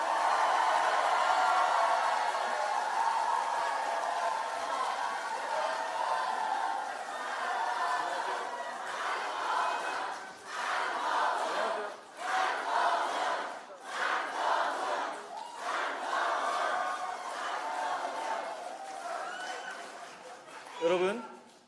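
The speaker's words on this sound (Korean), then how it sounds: "박수로 맞이해 주십시오" A large audience at a political lecture forum in Korea cheers and shouts in a loud, sustained roar, with bursts of clapping and whoops rising and falling over about twenty seconds.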